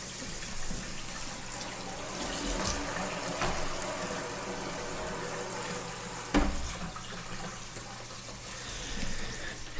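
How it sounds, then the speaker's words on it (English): Tap water running steadily through potted Vanda orchids indoors, a continuous splashing wash of flowing and draining water with a brief louder knock partway through, no voices. "And I just let the water run through."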